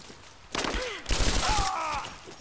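Gunfire in the video game Rise of the Tomb Raider, a couple of loud bursts of shots spread over a couple of seconds, mixed with game sound effects and a voice speaking in between.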